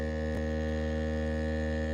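A DeWalt Grabo vacuum lifter motor runs with a steady, even electric hum and whine, close and constant throughout, with one brief click near the start.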